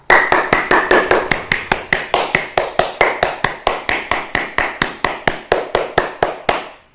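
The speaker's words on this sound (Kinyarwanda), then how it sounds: "Koma amashyi cyane ariko vuba vuba" Hands clapping loudly and fast in a kids' action song, a long run of sharp, evenly spaced claps, roughly four per second, close and strong throughout.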